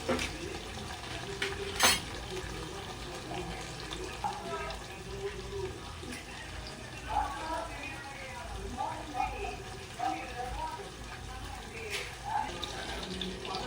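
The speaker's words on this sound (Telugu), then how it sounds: "ఇట్లా పచ్చిమిర్చి కారం పోయేంత వరకు వాటిని వేయించుకోవాలి" Green chillies sizzle and crackle in a hot pan while being stirred for green chilli chutney, a steady close frying hiss with scattered clinks of the spoon against the pan.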